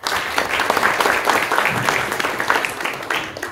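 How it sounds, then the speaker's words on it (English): Brief burst of audience clapping during a talk about NFTs, a close, dense patter of hands lasting a few seconds. "So let's give a clap for"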